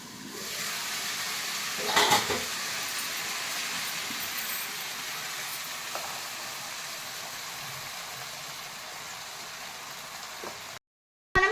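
Tomatoes fry in a pan for a brinjal and potato curry, giving a steady, close sizzling hiss with a brief clatter of stirring early on, before the sound cuts off near the end.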